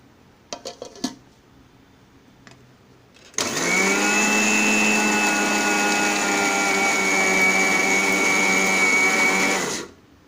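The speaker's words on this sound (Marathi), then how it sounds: "आता बारीक करून घेणार आहे मिक्सरमधून" A kitchen mixer grinder grinds peanuts and garlic for Malvani-style chutney, starting after a few light clicks and running as a steady, loud whirring roar for about six seconds before cutting off.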